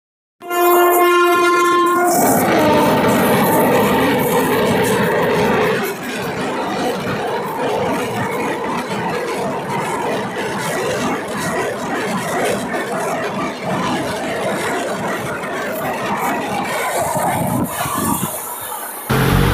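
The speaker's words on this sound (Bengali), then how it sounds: "খুব স্পিডে একটা ট্রেন আমাদের ক্রস করে চলে গেল।" A fast train rushes past a small local station, its horn blaring loudly at the start, followed by a continuous roar of wheels and carriages that stays close and loud throughout.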